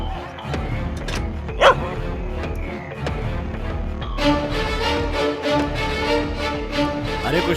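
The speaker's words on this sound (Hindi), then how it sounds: "बगल वाला कुत्ता भौंक रहा है।" A neighbour's dog barks several times nearby, sharp yips and woofs over a steady background hum, with a denser burst of barking toward the end.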